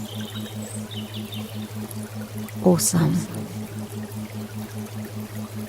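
Brief splash of pouring water during a guided meditation, rising for about half a second over a steady pulsing low drone, while a calm voice counts.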